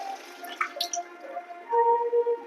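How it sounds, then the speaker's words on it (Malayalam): Water running from a tap into a kitchen vessel, a close, gurgling trickle with drips that swells louder and steadier toward the end. "വെള്ളം ഞാൻ ഇച്ചിരി പിടിക്കട്ടെ."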